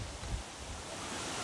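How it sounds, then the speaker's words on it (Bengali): Changey Falls, a waterfall near Kaffergaon, roars nearby with spray in the air, a constant broadband rush with low rumbling wind buffets on the microphone. "পিছনের যে ঝর্ণাটা দেখা যাচ্ছে এটাই হচ্ছে ছাঙ্গে ফলস"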